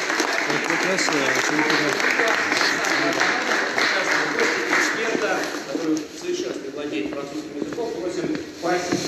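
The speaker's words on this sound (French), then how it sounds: "on applaudit bien fort" A crowd applauding loudly and continuously, with dense clapping that holds steady and begins to thin toward the end.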